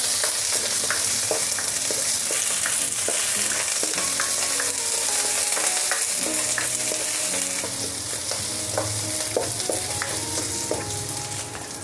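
Onion frying in a tablespoon of cooking oil for pork ribs kaldereta, a loud continuous sizzle close by with repeated scraping and clinking of a spoon stirring through the pan, no voices.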